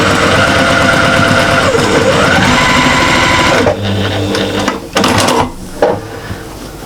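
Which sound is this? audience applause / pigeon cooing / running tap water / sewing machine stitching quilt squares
sewing machine stitching quilt squares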